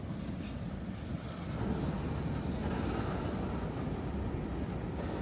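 A coal train rumbles steadily as it slows toward a stop near an engine service facility in Indiana or Western Kentucky, a loud continuous roar with no voices.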